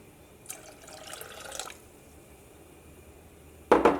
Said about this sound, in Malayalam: ഇനി ഞാനിതിലേക്ക് ഒരു 1/2 ഗ്ലാസ് വെള്ളം കൂടിയും ചേർക്കുന്നുണ്ട്.